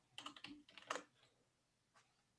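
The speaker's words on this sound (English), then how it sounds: "Shortcut, keyboard shortcut C" A computer keyboard is pressed for a shortcut: a quick cluster of close, crisp key clicks, then one faint tap after a pause, in a quiet room.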